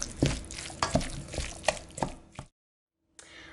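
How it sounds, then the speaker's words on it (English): A sausage and cream cheese mixture is stirred by hand for calzones, giving a handful of wet, sticky scrapes and soft knocks close by. A brief silence follows, then faint room noise. "So we're just gonna stir it all together."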